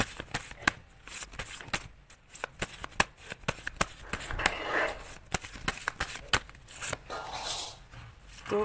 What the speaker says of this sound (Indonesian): Saya shuffle dulu kartunya ya.